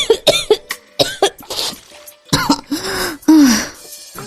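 A woman coughs loudly several times in a row after holding back laughter. The coughs come in uneven bursts with short harsh gasps between them, close and alone with no talk.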